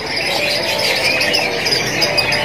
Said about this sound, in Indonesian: Inilah penampakannya untuk jenis burung kenari F1 anakan